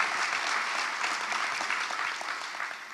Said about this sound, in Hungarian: Most tapsoljanak!